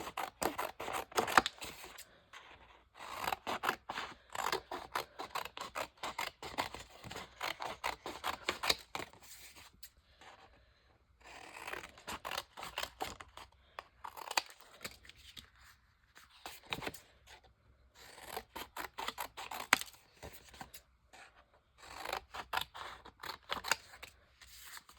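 Scissors snip and trim pieces down to a workable size for a round robin quilt project, giving a close, steady run of crisp cuts with short pauses between bursts.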